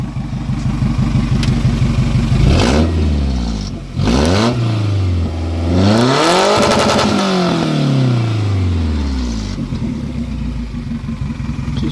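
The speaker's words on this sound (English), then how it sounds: "Hear her roar once." A Toyota Camry's engine is revved several times while parked. Loud, close rising and falling roars climb and settle, with the biggest sustained rev in the middle, over a steady idle hum.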